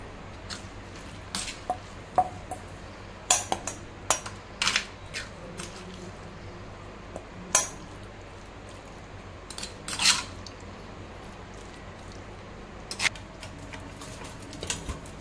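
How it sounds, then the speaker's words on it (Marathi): A crushed spice mixture is scraped from a mortar into a bowl: scattered short scrapes and taps, close and fairly quiet, with a few louder clinks over a soft steady background. "आता मी एका बाउलमध्ये काढून घेत आहे।"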